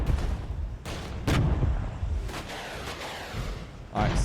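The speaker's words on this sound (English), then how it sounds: "Alright, missiles out. Artillery barrage up." Missile and artillery barrage in the Regiments strategy game, with repeated broadband booming blasts and rumbling impacts arriving in bursts over a sustained low roar, sounding loud and fairly close.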